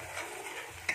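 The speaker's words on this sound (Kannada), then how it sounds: "ಸೊ ಚೆನ್ನಾಗಿ ಕುದೀತಾ ಇದೆ." Homemade ghee bubbling in a pan, a faint continuous sizzle and crackle close by, with a small sharp pop near the end.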